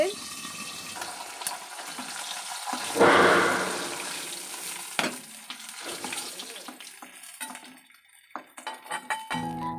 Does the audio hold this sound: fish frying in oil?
yes